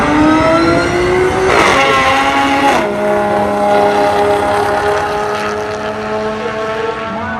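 Street legal cars roll racing at a drag strip, engines revving hard and climbing in pitch through loud upshifts as they accelerate up the track, close and continuous with no talk.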